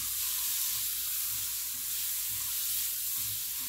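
Sausage frying in a pan, giving a loud, steady hiss of sizzling fat that runs unbroken from start to end, close and even in level with no talking over it.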